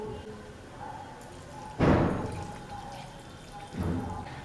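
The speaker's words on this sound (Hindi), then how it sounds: "बॉइल्ड किए हुए नूडल्स को हम इस तरह से निकाल लेंगे और फिर इसे ठंडे पानी से धो लेंगे" Boiled noodles rinsed under cold water for street-style Chinese bhel, two separate gushes of water splashing and pouring into a vessel, each followed by dripping, close by in a kitchen.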